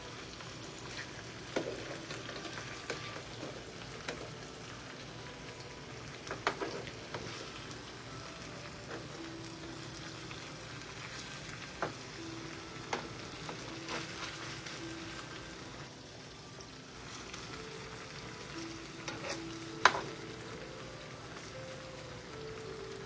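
Steady crackling hiss of food frying in hot grease, with scattered louder pops and spits and a few soft clinks over the continuous sizzle.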